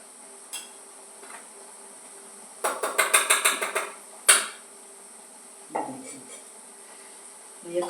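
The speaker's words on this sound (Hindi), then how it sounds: "तो इधर देखो मेरा ये घी गर्म हो गया है, तो मैं इस घी को इसमें निकाल लेती हूँ," Hot ghee is handled and strained through a steel strainer in a home kitchen, giving a run of bright metallic clinks and rattles near the middle, a sharp clank, then a few softer knocks over quiet room tone.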